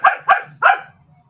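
A dog barks three times in quick succession, close and loud, with sharp evenly spaced barks followed by a faint low whine trailing off.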